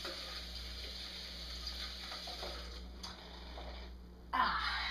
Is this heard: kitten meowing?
no